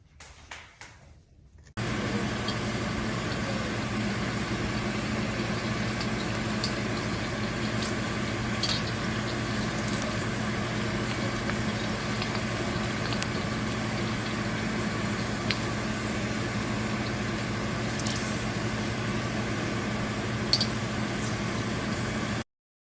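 Fuchka (puffed pani puri shells) frying in oil in a home kitchen on a cold, rainy day, a steady loud hiss with faint ticks and pops running unbroken after a quiet start.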